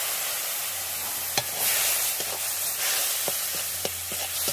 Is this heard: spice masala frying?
yes